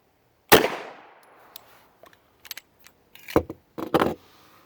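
A 9mm pistol firing PPU and MagTech rounds: one sharp nearby shot ringing out, followed by scattered small metallic clinks and clatters, then a pair of louder bangs near the end.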